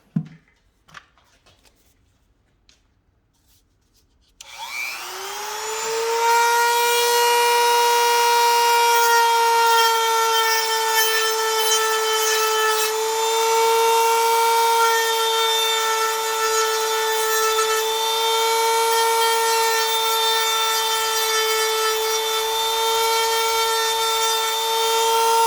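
A Dremel rotary tool set to about 3,500 RPM spins up after a quiet start into a loud, steady high-pitched whine that holds unbroken to the end, with no talking.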